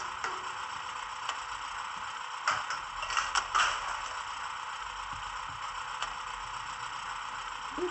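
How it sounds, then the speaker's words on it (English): An HO-scale German VW railroad maintenance vehicle, class KLv, plays a door opening and closing sound effect: faint clicks and a short cluster of clattering knocks over a steady background hiss. "here's a sound of a door opening and closing."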